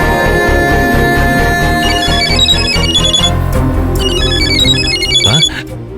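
Incoming call on a phone, a loud looping electronic ringtone melody playing steadily for several seconds before cutting off abruptly near the end.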